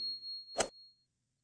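A single bright notification bell ding rings out alone, a clean chime with a short shimmering decay into silence.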